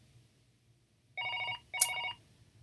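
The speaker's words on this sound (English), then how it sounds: "I am not going to answer the fucking phone this early in the morning" An early-morning telephone rings twice, two electronic trilling bursts with a short gap between them, loud and clear over a quiet room.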